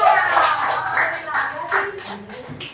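A group of participants at an Indonesian teacher-training session applauds briefly nearby, scattered uneven claps, while a voice talks over them.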